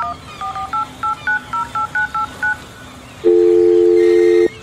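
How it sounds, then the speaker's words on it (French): A rapid run of about ten electronic telephone keypad dialing tones, each a short beep, followed by a longer steady tone. "Je vais essayer d'appeler Deepali"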